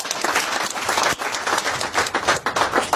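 Crowd applause at a political rally fills the air, many hands clapping densely and loudly in uneven swells, sustained throughout with no clear voices over it.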